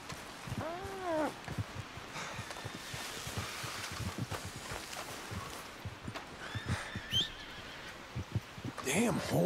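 A horse in the open-world western game Red Dead Redemption 2 whinnies sharply near the start, then comes a stretch of hoof clops, scuffs and rustling, with another bright whinny and more movement toward the end.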